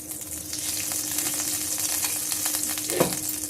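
Ghee sizzles steadily in a kadai for dal tadka, a continuous hot crackle with scattered pops and a brief stirring scrape near the end, with no voices.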